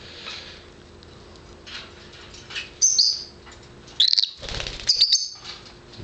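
A lovebird breeder flaps its wings as it flies up to a person's shoulder, several short quick wing flutters with a few bright chirps over a low room hum.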